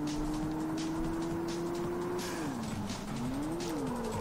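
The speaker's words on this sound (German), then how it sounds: "Oh, schöne Geräusch vom Turbo." A 380 hp VW Golf in the street racing game Street Racing Syndicate holds a steady engine drone that dips and rises with shifts and a turbo whoosh, carried continuously through the whole stretch.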